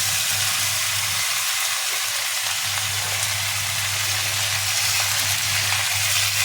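Okra and onions frying together in a pan, a constant loud sizzling hiss with a steady low hum beneath it and no pauses.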